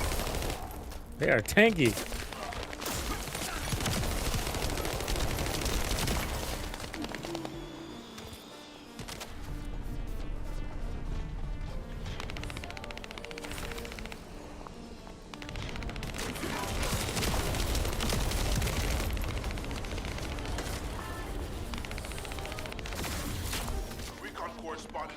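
Sustained bursts of light machine gun fire in The First Descendant, loud and near, rattle across most of the stretch with short pauses, while someone talks over the shooting.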